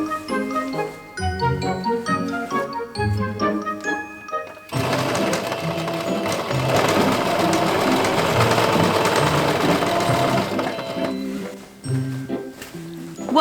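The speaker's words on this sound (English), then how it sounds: "It is now very easy to sew the crotch, which is this U-shaped area." Sewing machine stitching the U-shaped crotch seam of cosplay trousers, starting with a few short separate bursts, then running in one long steady loud stretch before slowing to stop-start stitching near the end.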